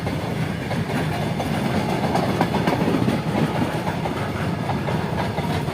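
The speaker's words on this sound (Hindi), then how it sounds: "चला गया ट्रेन" A passenger train rolls past on the tracks, a steady loud rumble with rhythmic clickety-clack of wheels over rail joints running continuously throughout, close by and with no talking.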